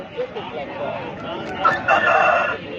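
A rooster crows at a busy Sunday poultry market in Pileru, a short mid-distance cock-a-doodle rising over a crowd murmur, with someone talking nearby.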